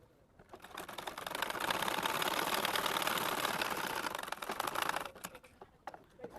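A sewing machine runs steadily for about four and a half seconds while stitching the back pocket of a pair of pants, a continuous whirring hum that starts and stops with light clicks, with no talk.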